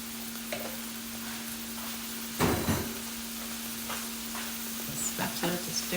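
Leftover vegetables and onion are stirred in a pan with a spatula, a soft scraping and sizzling broken by a louder burst of clatter midway, with a steady hum running underneath and no voices.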